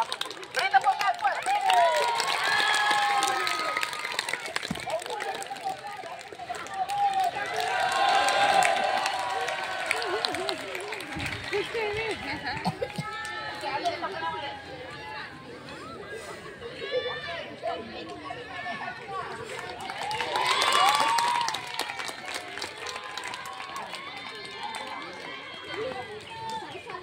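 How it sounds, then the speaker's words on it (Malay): Clapping and cheering from a school crowd at a fire drill demonstration, coming in several swells amid constant children's chatter and shouting, with talk between the bursts. "Beri tepukan kuat."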